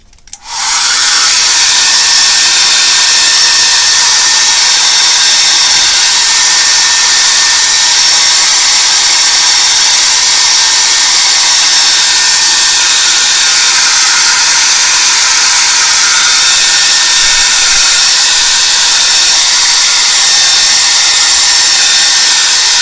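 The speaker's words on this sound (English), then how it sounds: "So this is still a little bit wet, so let's I'm going to blow dry it." Hair dryer blowing steadily on wet paint, a loud, constant close-up whoosh and motor whine that starts abruptly and runs unbroken, with no talking.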